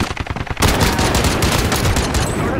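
DMR rifle fire in Call of Duty: Modern Warfare, a quick run of sharp close shots followed by a loud sustained burst of rapid gunfire that stays dense and heavy to the end.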